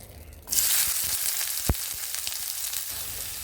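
Onions hit hot oil in a kadai and start to fry with a sudden loud sizzle that settles into a steady crackling hiss, with one sharp tap partway through.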